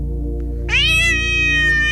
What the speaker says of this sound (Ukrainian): Знову цей дурний кіт промайнуло в голові Ляни